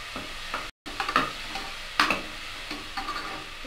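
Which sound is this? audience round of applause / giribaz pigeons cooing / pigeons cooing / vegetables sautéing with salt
vegetables sautéing with salt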